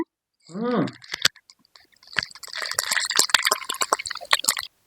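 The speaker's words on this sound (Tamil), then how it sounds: "கொஞ்சம் எண்ணெய் ஊற்றிக்கலாங்க. கொஞ்சம் கடுகு போட்டுக்கலாங்க." Mustard seeds dropped into hot oil for tempering a chow chow kootu, a brief voice then rapid crackling, popping and sizzling close up, growing busier over a few seconds.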